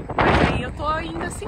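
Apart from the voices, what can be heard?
strong wind blowing into the microphone while riding an e-scooter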